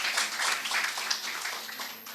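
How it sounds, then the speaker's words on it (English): An audience at a stock exchange listing ceremony for Drone Destination Limited applauds, a soft, steady wash of many hands clapping at a distance, tapering off slightly at the end. "Please have a big applause."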